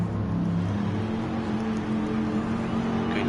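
Race car engines in a sim racing esports event at Autopolis circuit drone steadily and loudly, a continuous mid-pitched hum with no clear passes, no voices.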